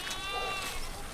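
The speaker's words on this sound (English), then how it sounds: "Don't know if you can hear in the background the little goat." A young goat, about four months old, bleats in a sustained wavering cry while tethered on a neighbouring farm, loud and close, with steady background noise.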